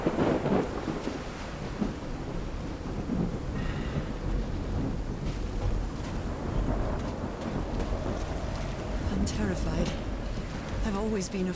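A thunderstorm in the video game Call of the Sea rumbles with low thunder and steady rain, while a voice talks over it and scattered sharper sounds break through.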